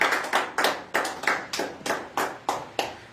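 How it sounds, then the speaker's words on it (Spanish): A few worshippers at a church service clapping in an even, steady rhythm, about nine sharp claps spaced roughly a third of a second apart, heard fairly close with no talking. "Denle un aplauso a Cristo."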